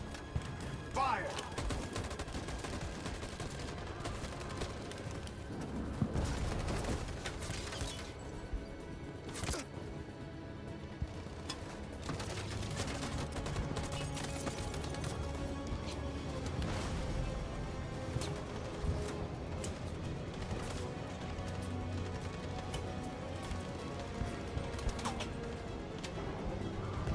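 A long burst of gunfire in Detroit: Become Human, with scattered shots, crashes and dense bangs layered over a continuous noisy action background, with occasional shouting voices mixed in.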